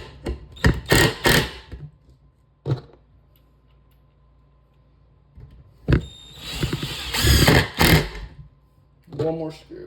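A cordless 20V Bauer 1/4-inch hex compact impact driver drives screws in several short bursts of rapid hammering clatter separated by pauses. It is close and fairly loud.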